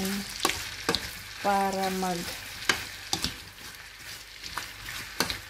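Apples frying in butter while a spoon stirs them, giving a soft continuous sizzle broken by sharp scraping and tapping strokes against the pan, with a short tonal clatter partway through.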